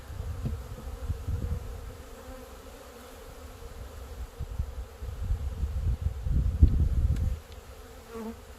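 Honey bees swarm in a dense, continuous buzz, the drone rising and falling as many insects fly close around during installation of a new colony, with no talking over it.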